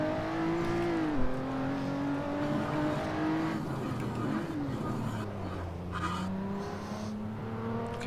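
Several race cars in the racing sim Assetto Corsa roar away together at a race start, steady engine drone with shifting pitch as gears change, a continuous layered pack of motors under light talk.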